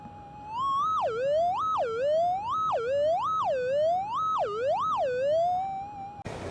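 A metal detector hunting for gold on bedrock gives a loud electronic tone over a buried target, sweeping up and down in about eight regular wavering pulses, heard close through headphones.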